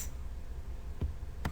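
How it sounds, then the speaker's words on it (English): A single Enter key pressed on a computer keyboard gives a soft, close click near the end, preceded by a fainter tap, over quiet room noise. "We'll press Enter on the keyboard."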